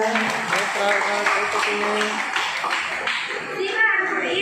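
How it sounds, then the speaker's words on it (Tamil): Audience clapping at a children's devotional singing event, a dense patter of hands that runs steadily and fairly close, mixed with chatter and voices, including a child's, underneath. "ஸோ நேத்ரா வாங்க கைத்தட்டலாம்"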